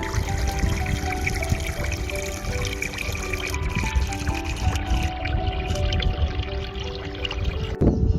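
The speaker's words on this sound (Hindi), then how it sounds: "पूरा एक्सप्रेसवे का पानी इस जगह पर एक साथ आता है और फिर आगे जो रेन हार्वेस्टिंग सिस्टम डला है ना, उसमें जाकर ये इकट्ठा हो जाता है" Runoff water from an expressway gushes steadily into a rainwater harvesting drain, a loud continuous rushing and splashing flow that fills the whole stretch without letup.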